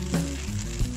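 Glass noodles stir-fried in a pan for a Thai dish, a steady close sizzle with a couple of brief louder bumps as the noodles are tossed, no voices.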